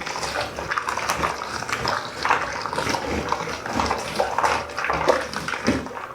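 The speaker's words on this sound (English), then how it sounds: "I'll agitate and then I'll let soak again." Cloth diapers are agitated by hand in water inside a Scrubba wash bag, producing continuous close sloshing, squelching and rustling with irregular splashy bursts.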